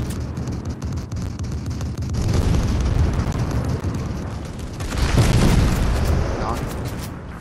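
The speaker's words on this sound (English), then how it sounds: "Oh shit, a missile, dude." Missile explosion in Fortnite, a loud broad rumbling blast that swells twice over several seconds amid chaotic game noise, with players talking throughout.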